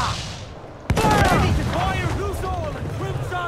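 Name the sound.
ship cannons firing, Assassin's Creed IV Black Flag video game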